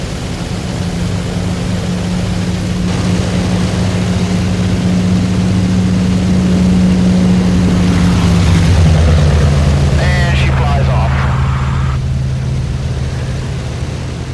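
A P-47 Thunderbolt warbird's big radial engine running up to maximum takeoff power, a loud sustained propeller drone that rises, holds steady and then shifts pitch as the aircraft accelerates.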